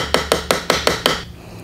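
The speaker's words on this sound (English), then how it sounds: "Gonna start with our little bitty ball peen hammer," A small ball peen hammer strikes the steering stop of a 2022 Beta 200RR Race Edition motorcycle six times in an even, quick rhythm, each sharp metallic tap close and loud, then a short ringing pause.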